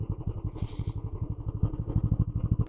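A Royal Enfield Classic 350 motorcycle ridden slowly, its single-cylinder engine thumping in a steady, close, rapid pulsing beat throughout, with a brief hiss partway through.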